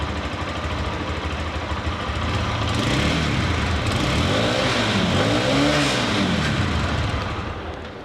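A Lifan KPM 200 fuel-injected motorcycle engine runs loud and close, rising and falling through several revs over a steady idle.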